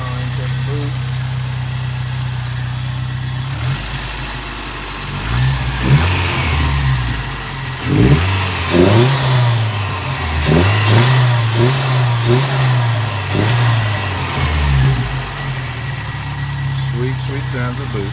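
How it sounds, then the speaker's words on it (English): The turbocharged 22RE-T engine of a 1987 Toyota 4x4 idles steadily, then revs up several times in quick bursts that rise and fall under boost before dropping back to idle, loud and close. "Sweet sounds of boost."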